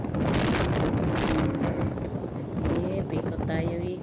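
Open countryside breeze buffets the microphone on a rural road, a loud gusty rush over the rumble of a moving vehicle, while a person talks over it.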